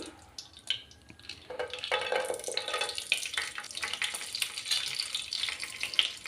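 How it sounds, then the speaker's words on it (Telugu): Dry fruits fry in ghee in a pan for double ka meetha, giving a close, crackling sizzle. It builds after a few faint clinks and stirring scrapes, then holds steady, with no voices. "ఇప్పుడు ఇందులోకి మనం ఫస్ట్ పక్కన పెట్టుకున్నాం కదండి డ్రై ఫ్రూట్స్ వీటిని ఇందులో ఇలా ఫ్రై చేసుకుందామండి"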